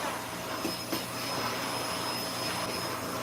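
Vacuum cleaner sucking up cat fur while cleaning a cat sanctuary, a steady, loud broadband roar with a constant high whine, running without pause throughout.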